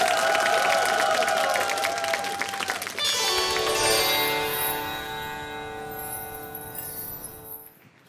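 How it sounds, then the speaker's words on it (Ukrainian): Studio audience applause on a Ukrainian evening talk show, dense and loud with some cheering, holding steady for a few seconds before shifting into a brighter, thinning clatter that fades out. "Так, да, все, оплески, друзі. Оплески."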